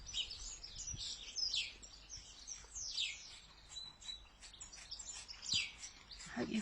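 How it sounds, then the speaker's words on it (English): Several birds sing and chirp in overlapping bright phrases, fairly close, over a soft background hiss with a few faint knocks. "I hope you can hear the bird song like we can, because it's so beautiful."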